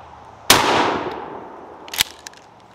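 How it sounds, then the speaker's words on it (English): A 12-gauge shotgun fires a single MagnaLens shell, a loud sharp blast that tails off into a long echo, followed about a second and a half later by a metallic clang and a few faint clicks. "So weird shooting a 12 gauge that doesn't have any recoil."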